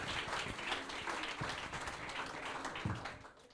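An audience at an eco-award ceremony applauds the first prize winner of the water trophy, a dense, even patter of clapping heard at moderate distance, steady throughout and fading slightly at the end.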